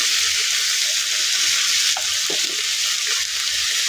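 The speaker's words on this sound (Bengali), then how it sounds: "পেঁয়াজটি বাজা বাজা হয়ে গেছে এখন আমি এদিকে পেঁয়াজ আর কাঁচামরিচ বাটাটা দিয়ে নিতেছি" Onion and green chili paste hitting hot oil in a pan with browned onions, giving a loud, steady close-up sizzle with a couple of brief stirring scrapes and no voices.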